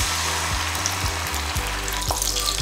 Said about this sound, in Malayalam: എണ്ണ ചൂടായിട്ടുണ്ട് നമുക്കിനി ഇതിലേക്ക് നമ്മൾ മാരിനേറ്റ് ചെയ്ത് വെച്ചിരിക്കുന്ന ചിക്കൻ ഇട്ട് കൊടുത്ത് ഫ്രൈ ചെയ്തെടുക്കാം